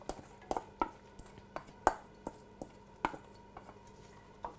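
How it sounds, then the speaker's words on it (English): Onions tipped into a pot of warm olive oil and butter, heard as scattered light clinks, taps and soft sizzling pops at irregular intervals, fairly quiet and with no talk. "So in go the onions."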